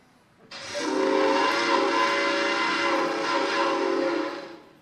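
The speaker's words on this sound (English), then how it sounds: "Okay, you just heard that train whistle. Let's hear it again." A train whistle blows in one long, steady, loud chord, sustained for about four seconds before fading, during a graduation commencement address, with no talking.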